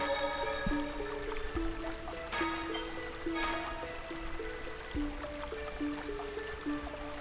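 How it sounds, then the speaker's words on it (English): Steady trickling, running water fills the background in the video game Tales of the Abyss, with a soft synthesized tune playing over it and occasional low plucked notes. "I do like that running water sound, though."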